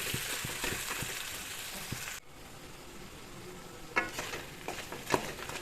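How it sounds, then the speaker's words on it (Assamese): Duck meat fries steadily in a pan with a continuous hissing sizzle, broken by a few clinks and scraping stirs toward the end. "প্ৰায় 5 মিনিটমান আৰু এনেকৈ ভাজিম মাংসখিনি।"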